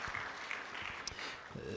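Brief audience applause at an employer awards launch event, a short burst of quiet clapping at moderate distance with faint voices underneath.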